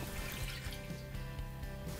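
Thick milk being poured back into a pan while making Madurai-style jigarthanda, a soft, close liquid splashing and trickling over about two seconds.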